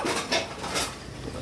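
Steel dinner plate being handled in a home kitchen, a few soft clinks and scrapes of metal tableware, faint and close, with no voices.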